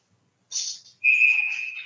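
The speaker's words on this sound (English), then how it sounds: "And we'll get a whistle." A referee's whistle sounds at a youth ice hockey game. A short first blast is followed by a longer, steady shrill blow, clear and fairly close, with no talk.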